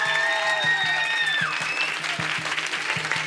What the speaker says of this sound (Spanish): ¡aplauso fuerte right now!